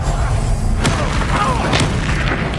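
A Confringo explosive spell goes off in the Hogwarts Legacy video game, a loud booming blast over a dense, constant game soundscape.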